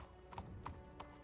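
Horse hooves clip-clop in the video game Red Dead Redemption 2, three soft, evenly spaced hoof strikes heard faintly over a low background rumble.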